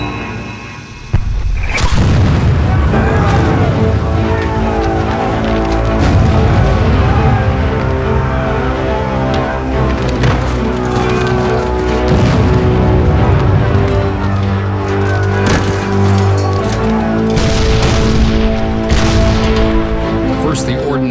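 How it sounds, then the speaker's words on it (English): Civil War artillery barrage at Gettysburg rendered as a dramatic reenactment: a sudden boom opens into sustained rumbling cannon fire and scattered blasts, layered over a dense score, loud and continuous. "marching into a barrage of artillery hell"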